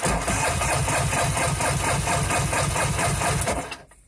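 Starter cranking a 1997 Kawasaki 1100 STX jet ski engine on a low battery during a compression test, a loud, steady rhythmic chugging that runs for several seconds and then stops abruptly.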